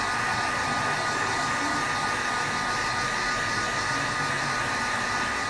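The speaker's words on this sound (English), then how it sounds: "Give it a bit of heat so it can loosen that adhesive around the LCD." A heat gun blows hot air onto an HTC 8X phone LCD to loosen its adhesive, a constant loud airflow roar with a steady fan whine, continuous and unbroken with no talking.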